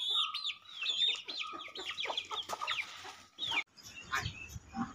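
Chicken clucking close by in a series of sharp, repeated clucks and squawks, fairly loud and alone with no speech.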